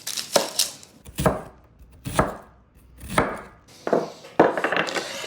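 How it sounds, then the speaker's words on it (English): A knife finely dices an onion on a cutting board, giving about seven crisp, evenly spaced chops close by with short pauses between them. "For the meatloaf, I need 1 onion, finely diced."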